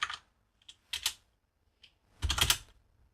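Bursts of clicking on a computer keyboard while entering a Linux command, three short clusters of rapid keystrokes separated by pauses, close and clear with no voices.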